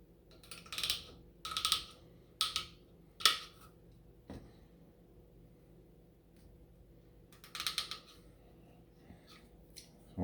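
Scissors cutting out a small piece of material, making a series of crisp snips in two clusters with quiet pauses between them, close and fairly faint.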